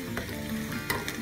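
Curry leaves dropped into hot oil with red chillies, a broad steady sizzle of frying with a few brief crackling pops, close and continuous, no voices.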